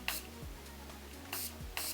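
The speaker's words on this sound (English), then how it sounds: "I'm gonna take the favourite Morphe setting spray and spray my synthetic" Morphe setting spray pumped onto a synthetic makeup brush: three short, quiet hissing spray bursts, the first alone and the last two close together, in an otherwise silent room.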